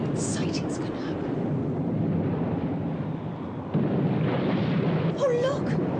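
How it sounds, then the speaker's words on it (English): A dramatized thunderstorm sounds as low, continuous rumbling thunder with a surge midway, heavy and sustained, with faint voices. "I've never seen such a storm."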